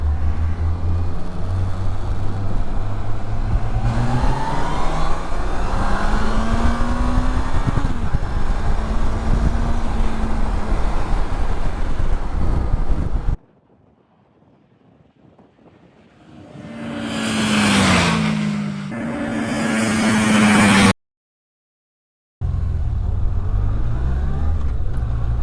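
Two Yamaha FJR 1300 motorcycles start side by side at about 3000 rpm in second gear and accelerate at full throttle, their engines rising in pitch, loud and close. A stretch of near silence comes before a second run.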